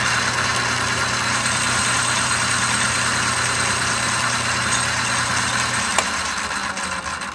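A metal lathe turns a raw cast part for a PM Research model dynamo, taking a light facing cut with a steady, loud mechanical hum and whir throughout, with a single sharp click near the end.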